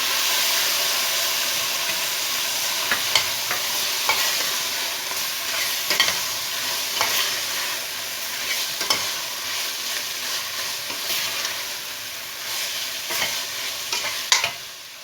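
Tomatoes with red pepper flakes sizzle in a hot pan while a spoon stirs them, giving a steady close frying hiss broken by repeated scraping clicks, with no talking.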